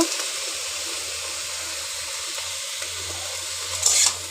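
Bottle gourd leaves and stems are stirred in a pan after salt goes in, giving a steady soft sizzle with faint scraping, ending in a brief louder rattle near the end.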